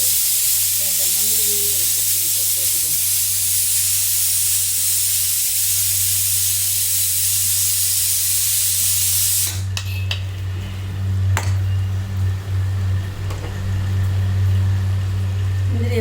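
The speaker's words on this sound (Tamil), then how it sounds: "இந்த எண்ணெய் ஊற்றிக்கிறேன் பொறிச்சிருச்சு" Oil heating in a pan while making a carrot sago kheer, a loud constant hiss throughout, joined midway by clinks and clatter with steady low background noise.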